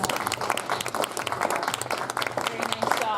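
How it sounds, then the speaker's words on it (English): An audience at a community meeting applauds a presenter, a dense run of clapping that continues throughout while a voice speaks over it. "Let's give him a round of applause."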